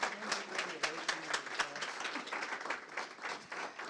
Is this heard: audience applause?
yes